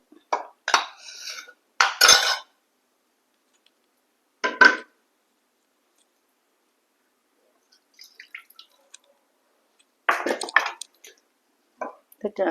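Mashed brinjal and tomato curry being moved into a serving vessel, with short bursts of metal utensils clattering and scraping against the pots, separated by quiet gaps.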